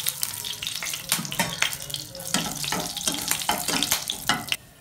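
Whole garam masala, cardamom, cinnamon and cloves crackle in mustard oil in a kadai for katla fish kalia, a close, steady sizzle broken by sharp spitting pops and stirring clatter.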